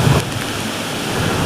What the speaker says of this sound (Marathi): वारं भरपूर मारत आहे